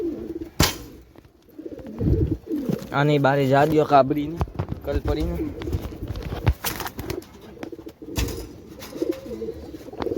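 Pigeons in a household loft, being put back into their nesting box, coo low and briefly beneath ongoing conversation, with a short rolling call standing out near the middle.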